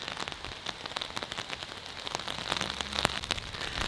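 Heavy rain pours down in a Sheffield cemetery, a close, steady patter of drops striking surfaces with sharper splashes scattered throughout.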